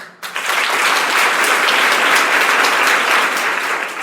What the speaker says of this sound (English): All of you clap once.